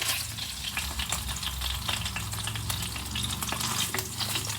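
Pork barbecue fries in a pan, a loud, continuous crackling sizzle close up with scattered pops and the scrape of stirring throughout, and no one talking.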